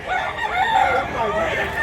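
A Milsim Black bullstag rooster, two years old, crows loudly and close by in one sustained call that fills the moment.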